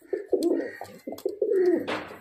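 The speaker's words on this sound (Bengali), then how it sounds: "তো চলুন আমরা পায়রাগুলো ছেড়ে দেখাই" Murshidabadi Giribaz pigeons coo close by while being released, a series of soft, throaty, rolling coos in short repeated bursts ending with a brief rustle.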